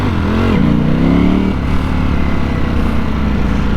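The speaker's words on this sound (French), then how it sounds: "Elle fait vraiment plaisir cette moto." Ducati Panigale V4S superbike riding past up close, its engine note loud and continuous with a rising rev at the start before settling into a steady rough growl.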